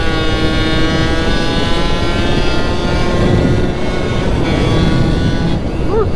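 A Yamaha YSR50 air-cooled 50cc two-stroke motorcycle with a Mikuni carburetor and tuned pipe revs hard and steady, a loud buzzing whine held close by for several seconds.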